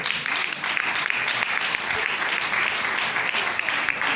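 Audience at an IMC event applauding as the chairman is called to the stage, a loud, dense wall of clapping from a large crowd that stays steady throughout.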